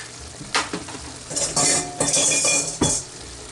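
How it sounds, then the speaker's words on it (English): Taco dip layer ingredients are stirred in a bowl with a utensil, producing repeated scraping and clinking strokes, several distinct knocks amid a continuous mixing swish, close and fairly loud. "just mix them up real good so that they're well incorporated together"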